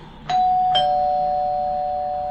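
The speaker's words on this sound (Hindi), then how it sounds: "11 बजे दरवाजे की घंटी बजी" A two-tone doorbell chime, ding then dong, rings out clearly and lingers as a long fading hum with no talking.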